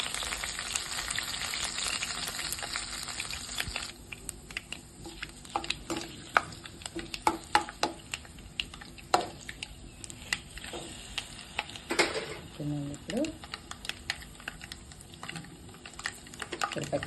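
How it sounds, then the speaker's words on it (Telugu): Mustard seeds, urad dal, dried chillies and cumin spatter in hot oil, a loud crackling hiss at first that settles into scattered sharp pops and light stirring clatter. "ఇప్పుడు ఆయిల్ వేడెక్కింది కదా, గిన్నె మిర్చి, కొంచెం ఆవాలు, మినపప్పు,"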